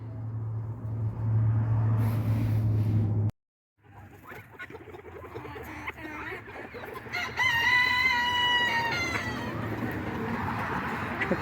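Backyard chickens cluck steadily, with a rooster crowing clearly partway through; the sound breaks off briefly, then resumes at moderate distance and stays continuous throughout.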